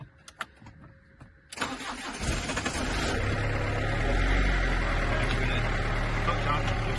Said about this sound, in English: So now I'm going to start it.